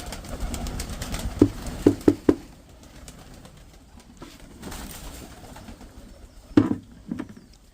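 Pigeons coo in a few short soft bursts over low ambient rustling, close by, with quieter stretches between calls and no talking.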